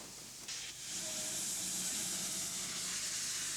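Castle class four-cylinder 10-wheeler steam locomotive number 5080 Defiant releasing a steady, loud hiss of steam that swells after a brief softer start and holds without a break, with no voices.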